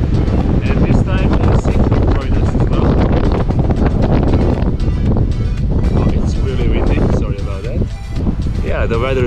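Strong wind buffets the microphone in heavy, rumbling gusts on a sunny day in Wanaka, New Zealand, with a person talking underneath the roar.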